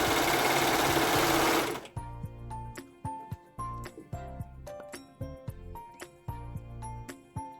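Sewing machine stitching a seam on a raglan-sleeve polo shirt: a steady whirring run for about two seconds, then a series of short, regular bursts of stitching with clicks between them, close and clear.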